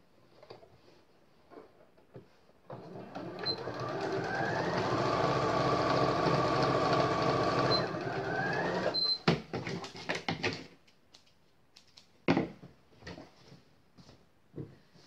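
A sewing machine runs steadily for about six seconds, stitching a seam along a fabric PE or gym bag with eyelets. Handling noises and clicks come before and after the motor's hum.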